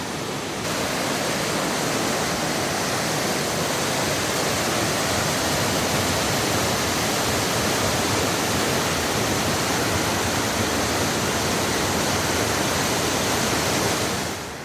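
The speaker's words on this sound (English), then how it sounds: "I was so preoccupied with the waterfall and the stream" A waterfall and stream near Brumley Arch in Moab, Utah, pour in a dense, constant roar of rushing water, close and loud, unbroken from start to finish with no voices.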